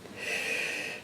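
A single slow, breathy inhalation during a guided chakra meditation, soft and close with an airy hiss, heard alone without any speaking.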